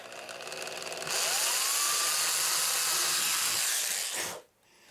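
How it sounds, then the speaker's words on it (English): A handheld power drill bores into a piece of wood during a woodworking project, its loud steady whine rising in pitch as it spins up, holding for about three seconds, then cutting off abruptly. "Yep, so we're going to have to drill it."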